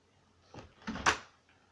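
Front door of a home with a Lynx Plus alarm system shut in a quiet room, a soft rustle followed by a quick double knock and a sharper latch click, faint and close.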